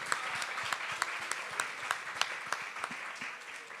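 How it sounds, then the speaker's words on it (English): An audience of women at a policy gathering breaks into steady, dense applause, many hands clapping together close by with no voices over it. "Give a round of applause to yourselves."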